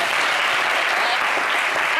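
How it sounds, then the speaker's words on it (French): Applause from a studio audience at a televised literary talk show, a thick, continuous wash of clapping at steady volume, with no pause or voices on top. "vous pouvez applaudir"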